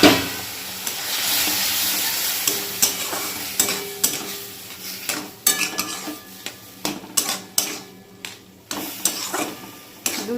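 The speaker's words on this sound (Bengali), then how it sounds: "প্রথমে সুজিটাকে ঘি দিয়ে ভেজে নেব। দিয়ে দেব আগে থেকে ফোটানো দুধ।" Semolina fried in ghee for a semolina ras malai sweet, with milk poured in and stirred: a soft sizzle at first, then a run of close, sharp scrapes and clinks of a utensil against the pan, with no talk.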